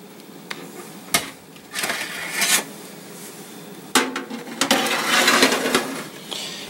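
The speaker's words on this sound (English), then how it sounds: "Into the pre-warmed toaster oven for you." A food tray slid into a pre-warmed toaster oven while making a mushroom, bacon and kale cheesy bun sandwich: scattered metallic clanks, a scraping slide and a rattle of the rack, close and intermittent.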